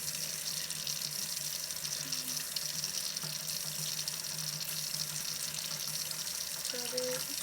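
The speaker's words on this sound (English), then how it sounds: "you just kind of scrub it until like you're happy with it, all the dirt and all that's off" Potatoes scrubbed by hand under a running kitchen tap, with a steady close rush of water into the sink throughout and faint rubbing and clinks mixed in.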